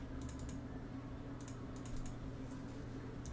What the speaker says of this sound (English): Oh my gosh! Stop clicking,